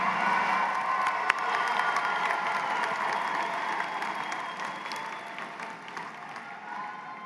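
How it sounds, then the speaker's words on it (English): Sustained applause from a large audience at a graduation ceremony fills the space, steady clapping with a few cheers, slowly tapering off toward the end. "give them a big round of applause to them"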